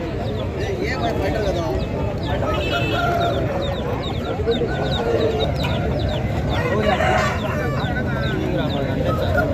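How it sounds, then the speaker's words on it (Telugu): Aseel rooster with a long heavy tail clucking amid the steady crowd din of a Saturday poultry market in Mydukur, with brief fowl calls rising over continuous background chatter and bustle. "ఇది పుంజు వచ్చేసి మంచి లాంగ్ హెవీ టైల్ సంబంధించిన పుంజ అండి ఇది"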